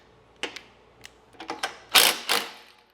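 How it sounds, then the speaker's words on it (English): Several sharp metallic clicks and ratcheting snaps from a 1/2-inch socket wrench loosening a Cub Cadet mower blade hub, close and distinct, in a quick irregular burst with louder strokes near the end. "The right way to do it is 1/2-inch socket underneath, and then we're going to loosen this up a little bit"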